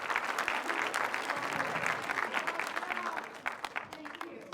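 A theatre crowd gives loud, dense applause as actress Marcia Cross enters a Séries Mania master class, sustained throughout with a few sharper individual claps near the end and voices faintly mixed in.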